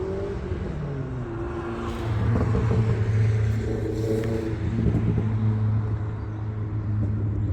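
MG test cars at the Longbridge plant, a steady low engine drone with a rise in revving partway through, fairly close and continuous with no talk over it.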